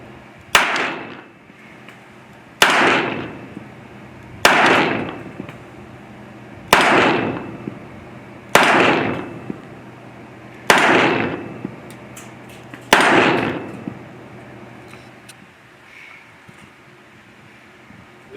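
Seven loud, sharp handgun shots spaced about two seconds apart, each with a short ringing decay, from a handgun firing jacketed soft-point hollow-point bullets outdoors, followed by quiet.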